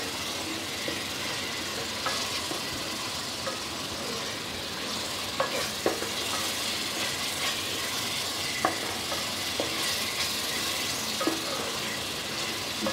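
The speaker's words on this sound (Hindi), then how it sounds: "देखिए मसाला अच्छी तरह भुन गया है। हम इसको 1-2 मिनट और भूनेंगे।" Masala sizzles quietly in a pan while being fried for a chicken and potato curry, a soft constant crackle broken by scattered clicks and scrapes of stirring.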